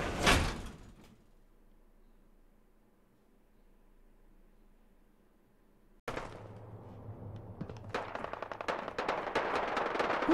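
Gunfire from Fallout 4 in Nuka-World's Galactic Zone: a sharp loud report opens, then quiet hum, then a dense burst of rapid, crackling shots and impacts builds loudly near the end.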